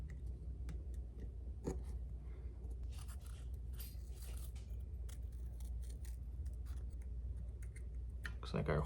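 Scissors cutting out a homemade replacement part for a lean-running Ryobi CS30 string trimmer, with close snips and scraping over steady background noise.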